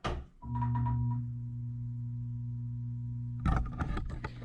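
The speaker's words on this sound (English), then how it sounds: "That's a loud ballast." A buzzing fluorescent light ballast drones with a steady electrical hum and a faint high whine, briefly interrupted by clicks and clunks near the end.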